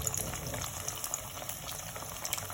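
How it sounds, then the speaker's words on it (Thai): Black pomfret fish frying in hot oil in a pan, a faint steady sizzle and bubbling hiss with small crackles throughout. "เราก็จะเริ่มทอดนะครับ"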